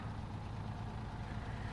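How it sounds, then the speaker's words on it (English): A truck's engine idles steadily in the video game SnowRunner, a low, even rumble that holds close and constant throughout with no talk over it. "If I turn the engine back on."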